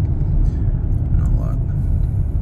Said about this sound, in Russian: Тихоход, даже фура обгоняет.